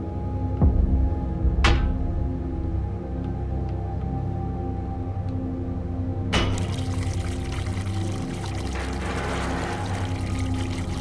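Water pours and gushes steadily from a broken pipe in The Uncertain, a continuous close rush broken by a few sharp knocks, with no one speaking.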